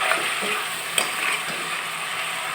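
Beef pieces fry in hot oil in a pan with a continuous crackling sizzle, broken by stirring scrapes and a sharp clink of a utensil against the pan.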